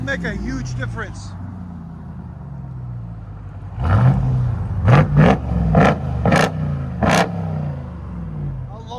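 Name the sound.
RAM TRX engine revving through aftermarket exhaust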